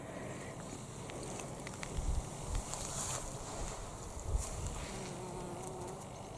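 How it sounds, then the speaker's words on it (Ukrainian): A bee buzzes faintly among marigold flowers outdoors, a thin hum almost lost under wind and rustling background noise. "Бджілка працює. А я й не бачила тут у чорнобривцях."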